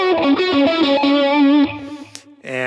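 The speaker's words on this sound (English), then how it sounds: "now I've got the phase shifter." Distorted electric guitar lead with a sweeping phase shifter effect and small room reverb, played as a run of sustained and quick notes, loud and alone, ending on a bent note and a fresh chord.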